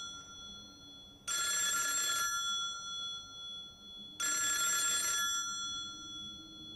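Telephone ringing in a horror film scene, two long bright rings about a second each with a silent gap between them, clear and alone over a faint background.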